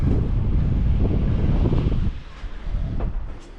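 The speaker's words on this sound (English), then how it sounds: "Oh, the wind is picking up." Wind gusting hard outdoors on a climb up narrow stairs in Kosovo, a loud broadband roar buffeting the microphone, then easing slightly into softer rushing gusts.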